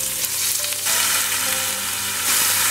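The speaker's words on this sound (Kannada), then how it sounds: "ಒಗ್ಗರಣೆ ಹಾಕೊಳ್ಳೋಣ ಈರುಳ್ಳಿ ಹಾಕೋತೀನಿ ತೊಳೆದಿಟ್ಟಿರುವಂತ ಮಟನ್ ಪೀಸ್ ಹಾಕೋತೀನಿ" Onion and washed mutton pieces dropped into hot oil for a tempering, a loud, continuous crackling sizzle with a brief stirring scrape near the start, no voices.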